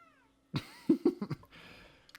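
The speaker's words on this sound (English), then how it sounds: "he's being a cat. That's what cats do." A house cat meows several times in quick succession, short close calls rising and falling, after a brief quiet moment and followed by faint rustling.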